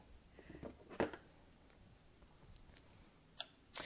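Scissors snipping the yarn of a knitted sweater, a few quiet, close, crisp cuts spaced out over a few seconds with soft rustling in between.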